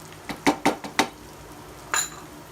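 A lid goes onto a pot of Burmese khow suey curry with a quick run of four metallic clanks and taps, then one brighter clink after a short pause, close and fairly loud, with no speech.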